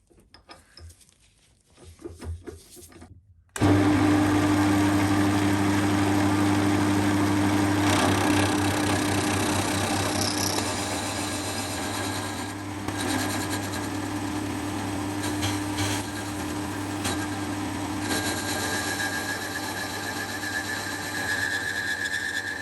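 A newly acquired milling machine makes practice cuts in a piece of aluminium: after a quiet start, a loud, steady motor whine and cutting chatter begin and continue to the end with no talk.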